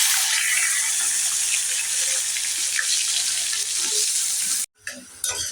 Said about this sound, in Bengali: আমি আলুটা লাল করে ভেজে নিয়েছি